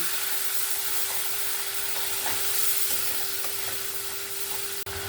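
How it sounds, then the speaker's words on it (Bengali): Tomato paste and spices are sautéed together in a pan, making a continuous close sizzle and hiss with faint stirring clicks under a steady hum. "টমেটো পেস্টটা একসঙ্গেই আমি সব মশলাগুলো দিয়ে দিয়েছি এবার আমি ভালো করে কষিয়ে নেব"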